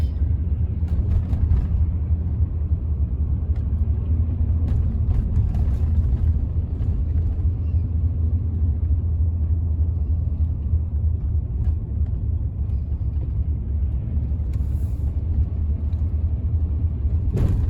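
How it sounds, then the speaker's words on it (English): Steady low rumble of heavy road traffic at night, continuous engine and tyre noise from several passing vehicles, fairly loud and unbroken with no talk. "there would not be this much traffic."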